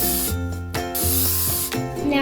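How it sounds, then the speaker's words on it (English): Bursts of cooking spray hiss from a can while greasing for chocolate chip cookies, several loud airy sprays in quick succession, with a musical tone running beneath. "let's get out our cooking spray"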